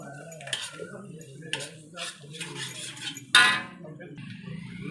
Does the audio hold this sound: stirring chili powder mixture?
yes